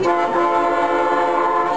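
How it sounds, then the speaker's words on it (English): A loud, sustained train horn fitted on a car blares continuously, a rich chord of tones holding steady without break. "Why does he have a train horn in a car?"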